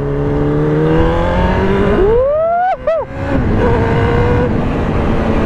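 A 1990 Suzuki GSX-R 750 motorcycle engine revs up while riding, climbing steadily in pitch, then chopping through a quick gear change before settling back to a loud, steady drone.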